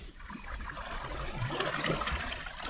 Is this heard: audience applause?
no